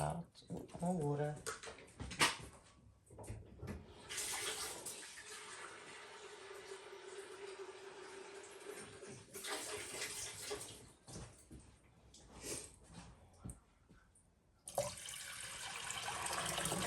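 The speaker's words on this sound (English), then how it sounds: "I may as well start rinsing that out. Ooh, more water." Tap water runs into a kitchen sink while a syrup container is rinsed out, a steady hiss lasting several seconds that stops and starts again, with a person talking around it.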